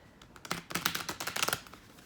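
An oracle card deck gets shuffled up close, a quick burst of crisp riffling card flicks that speeds into a dense flutter before it stops.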